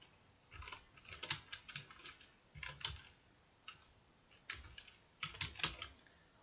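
Close, quiet typing on a computer keyboard in short bursts of rapid key clicks separated by brief pauses, with no talking.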